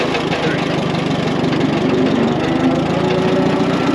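An Allis Chalmers 10-18 tractor engine runs steadily and fairly loud at close range, a continuous throbbing drone that holds even for the whole stretch, with voices talking over it.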